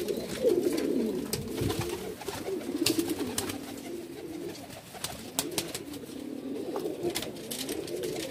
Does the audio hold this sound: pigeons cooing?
yes